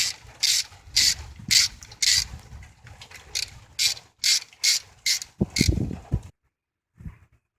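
A ratchet wrench clicks in repeated short bursts while tightening radiator hose clamps on a 1996 Honda Civic, a dozen close, crisp strokes followed by a brief clunk and then near silence.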